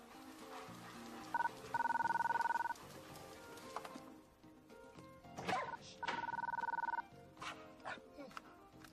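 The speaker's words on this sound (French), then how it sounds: "Rex, téléphone!" A telephone rings in two long electronic trills separated by a pause, with people talking and a police dog barking around it indoors.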